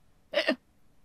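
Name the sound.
reader imitating a whale's hiccups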